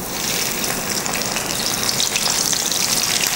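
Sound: frying breadcrumb-coated prawns in hot oil

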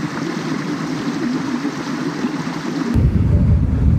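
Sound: stream water flowing at a water crossing

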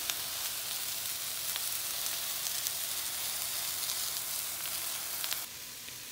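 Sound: food sizzling in a cast iron pan

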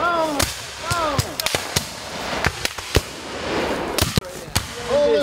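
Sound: rifle volley fired at Civil War reenactment

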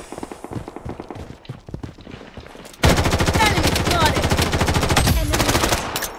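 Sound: gunfire in the video game Bloodstrike

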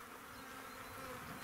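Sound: honey bees buzzing at a beehive

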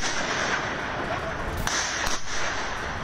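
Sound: gunfire in news footage

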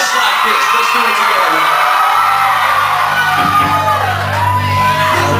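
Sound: concert crowd screaming and yelling

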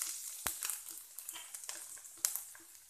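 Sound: garlic and grated ginger frying in hot oil

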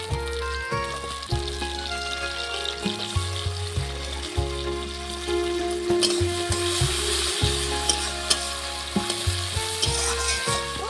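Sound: frying tomatoes in pan

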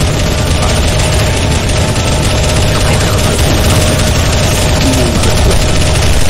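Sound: gunfire in the video game CS:GO Zombie Escape

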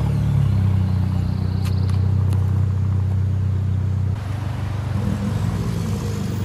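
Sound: car engine revving

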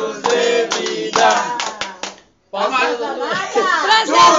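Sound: hand clapping after birthday song

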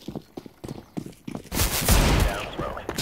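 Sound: gunfire in a video game

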